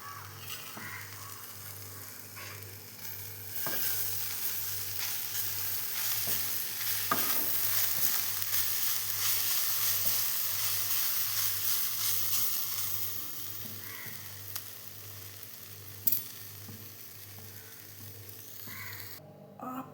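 Okra frying in a pan in a Kerala kitchen, nearly cooked, with chili powder being stirred in: a steady close sizzle with scraping stirs throughout, briefly louder in the middle, then settling.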